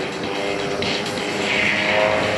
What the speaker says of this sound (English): The airplane they're flying is the RV-8.